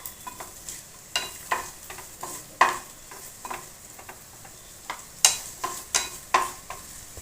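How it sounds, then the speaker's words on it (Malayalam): Onions with ginger and garlic are stirred in a frying pan, a quiet background sizzle broken by a steady series of sharp spoon scrapes and taps at close range. "ജിഞ്ചർ ഗാർലിക് ഇട്ടിട്ട് നന്നായിട്ട് ഇളക്കി കൊടുക്കാവേ."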